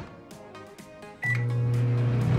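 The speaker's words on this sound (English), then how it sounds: "put it in the microwave for 1 minute." After some quiet handling noises, a microwave oven heating a frozen breakfast calzone gives a short beep. Its steady, fairly loud hum then starts and carries on to the end.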